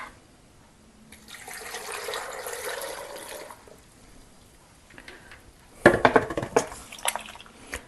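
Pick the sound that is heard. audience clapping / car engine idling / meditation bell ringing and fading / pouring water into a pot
pouring water into a pot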